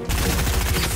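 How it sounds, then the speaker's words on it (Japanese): Loud, rapid bursts of gunfire in the video game Fortnite in a dense, continuous volley, close and sharp with no voices. "銃声がする！"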